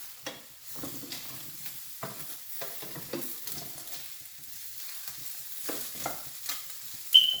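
Paneer pieces fry in a pan as they turn golden brown, soft crackling sizzle broken by short stirring scrapes and taps, fairly quiet and close, with no talking.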